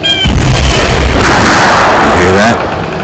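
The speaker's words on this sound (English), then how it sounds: "You hear that? Gunshot." A loud, booming gunshot blast in the video game State of Decay, with a long rumbling tail, fills the moment, heavy and close, fading out at the end.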